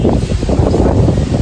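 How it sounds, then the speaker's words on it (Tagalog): Strong typhoon wind roars steadily and loudly into the microphone outdoors, a continuous rumbling gust with no voices. "Grabe ang hangin, oh"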